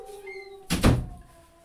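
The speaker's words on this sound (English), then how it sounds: "So let me close my door" A home door shut firmly in one close thump with a brief rattle, while a faint high tone hums in the room.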